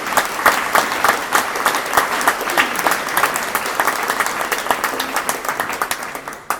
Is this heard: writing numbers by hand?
no